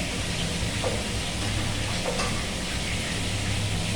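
Lentil fritters (bora) frying in hot oil, a steady hiss and sizzle running unbroken and fairly close throughout, with a faint low hum underneath.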